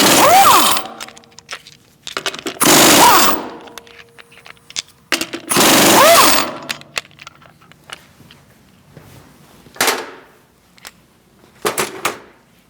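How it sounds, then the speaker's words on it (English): An impact gun removes lug nuts from the front wheel of a 2016-2019 Chevrolet Cruze: three loud rattling bursts, each about a second long, then a few shorter, lighter hits with quiet gaps between them. "Now we're going to remove our lug nuts."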